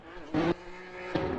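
A supercharged VQ-powered Nissan S13 drift car at a Formula Drift qualifying run, its engine droning steadily with two sharp surges of tire-smoking roar, heard from trackside at moderate distance.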